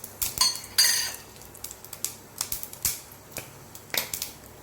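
Mustard seeds spluttering in hot oil while tempering for a papad-based gravy, giving a run of sharp, crackly pops in irregular bursts, some clustered and some isolated, close and fairly quiet.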